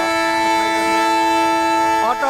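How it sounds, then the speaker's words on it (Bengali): A horn on a burning bus blares continuously by itself, a loud sustained multi-tone blast holding steady nearby, with a brief voice near the end. "আগুনে পুড়ে অটোমেটিক হর্ন বাজছে"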